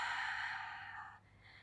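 Long, steady exhalation through the mouth during a Pilates roll down, breathy and close, fading off after about a second and a quarter, with no talking.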